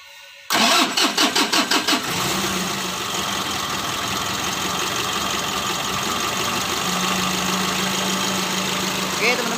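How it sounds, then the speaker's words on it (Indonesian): A Mitsubishi L300 engine, just rebuilt, cranks with a rapid rhythmic starter churn for about a second and a half, catches, then settles into a loud, steady idle close by with a faint knock running through it. "Kita coba hidupkan dulu mobilnya teman-teman ya."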